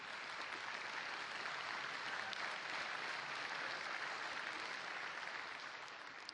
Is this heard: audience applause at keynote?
yes